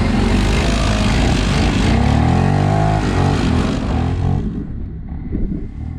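Segway Snarler 570 ATV carrying two riders, a dense steady engine drone with rising and falling revs as it passes close, fading somewhat toward the end, with no talk.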